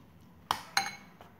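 A spoon clinks twice against a bowl while butter, oregano and salt are mixed for garlic bread, with two bright, close taps and a faint third knock in a quiet room.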